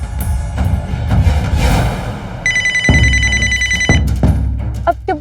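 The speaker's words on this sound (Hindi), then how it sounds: "आपके बॉस का फोन आ रहा है।" A telephone rings in bright repeated electronic trills, loud and close, mixed with scattered bangs and background noise.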